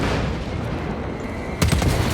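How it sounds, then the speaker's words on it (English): A crack grenade detonates in the video game Warhammer 40k Space Marine 2, a sharp blast bursting out of a steady rumble of combat noise near the end. "Unleashing crack grenade!"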